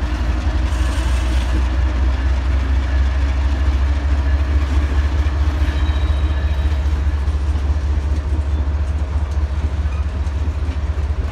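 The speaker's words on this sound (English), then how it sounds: "A pair of engines that just left ACA shops." Pair of SD45 diesel locomotives moving through a rail yard at night, a continuous loud low diesel drone with rolling wheel and rail clatter running steadily throughout, with no talking.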